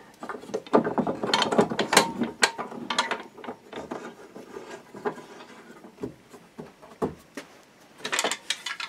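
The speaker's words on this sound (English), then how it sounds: "then we'll just start to tighten up our clamps, just initially just to hold everything together." Clamps being tightened on a glued-up wooden bass guitar body blank in a workshop, a run of close, irregular ratcheting clicks and creaks with short pauses between turns.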